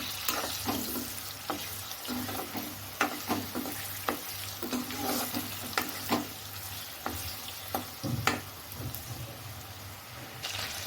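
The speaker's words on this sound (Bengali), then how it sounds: "কোপ্তাগুলো হালকা লাল করে ভেজে নেবো" Raw banana and cheese koftas fry in hot oil with a steady close sizzle broken by frequent small pops and crackles, and no one speaks.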